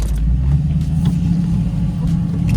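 A Factory 5 GTM sports car pulls away with a deep, loud engine rumble that rises slightly as it accelerates, heard close and steady with no talk over it.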